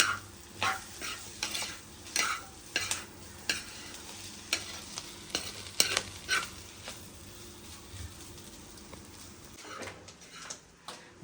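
Beef roast ingredients with ground black pepper are stirred in a pan, giving a run of repeated scraping and clinking strokes over a soft sizzle, close and fairly loud, with no talking.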